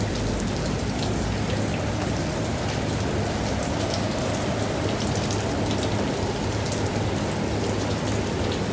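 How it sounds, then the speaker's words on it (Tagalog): Heavy rain pours steadily onto a street that quickly floods, a dense, loud, unbroken hiss of drops with no voices. "Panandal, ilang minuto lang nalakas ng ulan oh."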